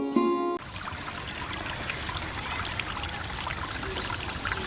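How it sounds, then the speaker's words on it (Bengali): Water from a deep tubewell gushes and pours steadily in a rural village, a continuous loud splashing stream following a brief tonal sound at the start. "আপনারা এখন যে পানির আওয়াজটি শুনতে পেলেন, এটি হচ্ছে ডিপ টিউবওয়েলের পানির আওয়াজ।"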